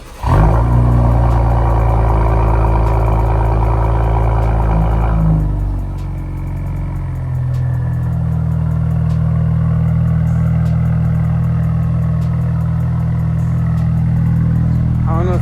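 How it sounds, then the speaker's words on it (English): A 2023 Acura TLX Type S with its turbocharged engine running close by, loud and steady, with a busier revving section before the turbos wind down around six seconds into a lower, even drone. "when them turbos start spooling down, it sounds so sick"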